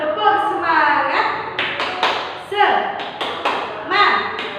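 A third-grade class performs the rhythmic tepuk semangat clap, sharp hand claps in quick patterned bursts mixed with chanted voices, loud and close.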